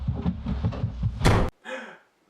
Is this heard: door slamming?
yes